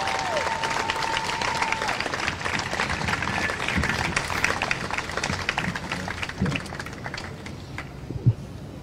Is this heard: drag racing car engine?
no